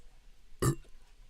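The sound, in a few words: burp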